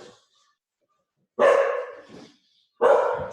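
Dogs bark indoors in a home, with two loud, close, separate barks split by a short gap, and a softer yip after the first bark.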